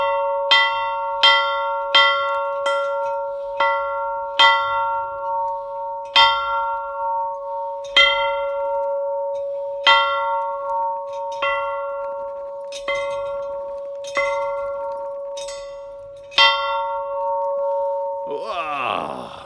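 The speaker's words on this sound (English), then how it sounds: "I ring that bell" A large bell rings out over and over, each clear, resonant strike decaying into a long sustained hum before the next, spaced roughly a second or two apart, with a rustling noise at the very end.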